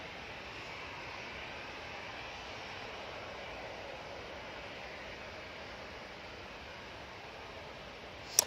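A Jet2 jet departing Manchester Airport for Corfu, a faint, steady, distant engine rumble and hiss holding level throughout, with a brief click right at the end.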